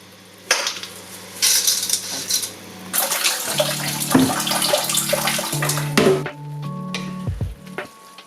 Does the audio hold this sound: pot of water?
yes